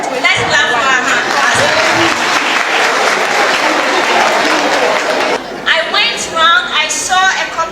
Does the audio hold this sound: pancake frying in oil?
no